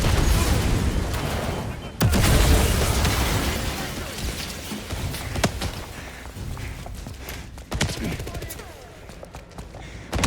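Gunfire and a frag grenade blast erupt in a dense, chaotic battle in the video game 007 First Light, with a sharp burst at two seconds and repeated shots over loud, continuous noise while voices shout orders.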